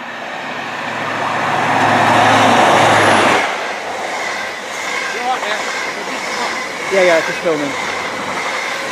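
Grand Central Adelante VTEC HST train rushing past close by, a loud swelling roar that cuts off sharply, followed by quieter rail noise and faint squeals; someone speaks briefly.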